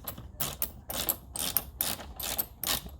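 A ratchet wrench fitted with a deep socket turns a screw on a 2018-2019 Honda Accord engine during an engine dress-up kit install, giving about six close, crisp bursts of rapid clicking at a steady back-and-forth rhythm.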